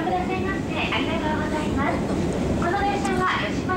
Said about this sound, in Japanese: ディーゼルカーで走っております。